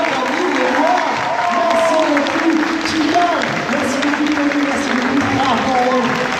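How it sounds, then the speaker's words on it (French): Audience at a video game convention in Montpellier applauding three American actors after their panel, a dense crowd clap with scattered cheers, while a voice talks over it with a steady tone underneath. "Je pense que vous pouvez encore les applaudir."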